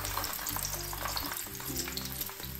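Chicken deep frying in bubbling hot oil gives a dense, continuous crackling sizzle, loud and close throughout with no voices.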